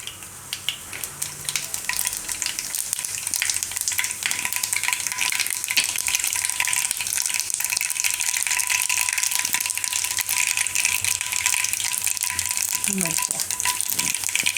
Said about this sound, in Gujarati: તેલ આપણું ગરમ થઈ ગયું છે, એમાં નાખશું પહેલાં આપણે થોડીક રાઈ